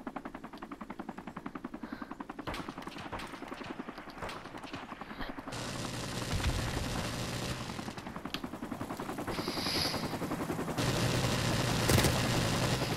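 Rapid automatic gunfire rattles in a Call of Duty: Modern Warfare Remastered match, dense bursts of shots with mechanical clatter continuing throughout, growing louder partway through.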